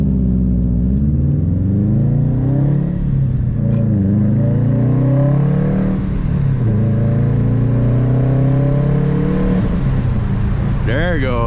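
Stage 1 2018 Subaru STI engine accelerating on the road, loud close revs climbing through repeated gear pulls with rising and dropping pitch, a brief whine near the end.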